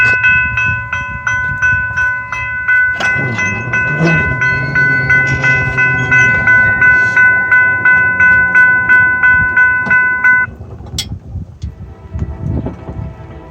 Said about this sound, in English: here's a recording of the new e-bell at this crossing